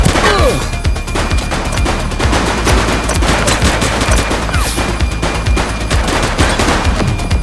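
Sustained heavy gunfire during a police shootout in The Precinct: rapid, loud, overlapping shots and bursts that continue without pause throughout.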